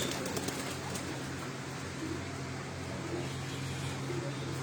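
Pigeons on a rooftop in Chak Beli Road, Rawat, cooing and stirring faintly at a distance, with a steady low hum and some passing traffic underneath.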